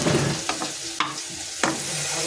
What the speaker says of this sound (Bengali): অল্প তেল দিয়ে ফুলকপি ভাজা বসিয়ে ঢাকা দেবো